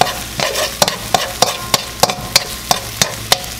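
Aromatics sizzle in a hot pan for keto Mongolian beef while being stirred and tossed, a rapid regular run of sharp utensil scrapes and clacks over constant frying hiss, close and loud, with no talking.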